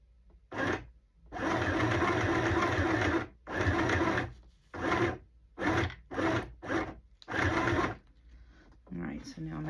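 Sewing machine stitching a journal cover in bursts of steady whirring, several long runs then shorter stop-start spurts, fairly close and loud, with pauses between.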